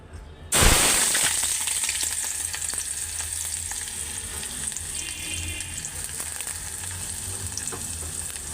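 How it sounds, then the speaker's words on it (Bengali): Small fish for a chorchori curry, with fresh onion, hits hot oil in a sudden loud burst, then settles into a dense, continuous close-up sizzle with occasional crackles. "তো আগে গুঁড়া মাছের চচ্চড়িটাই বসাই দিব, হালকা কষায় তেল গরম হয়ে গেছে"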